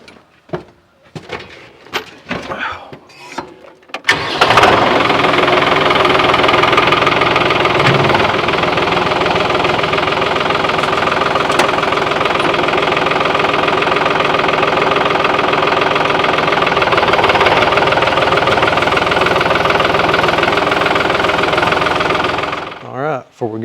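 A tractor engine starts after a few knocks and clatters, then runs steadily at a loud, rough idle for about twenty seconds close by, with no talking, before cutting off abruptly near the end.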